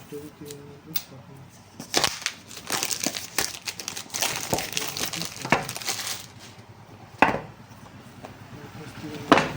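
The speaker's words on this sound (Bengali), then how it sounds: "আস্তে আস্তে খুলছি চলো আস্তে আস্তে খোলো এক একগুলো কভার করো" Packaging covers on a new Redmi 13 5G phone box are peeled and unwrapped up close, crinkling plastic and paper rustles with sharp clicks and taps in uneven bursts, with a voice talking quietly at times.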